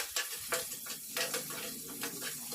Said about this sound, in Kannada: ಹಾಕ್ಬಿಟ್ಟು ಹಾಗೆಯೇ ಫ್ರೈ ಮಾಡ್ಕೊತಾ ಇದ್ದೀನಿ.